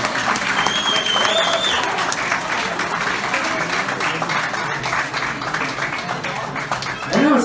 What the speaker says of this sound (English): big round of applause right now.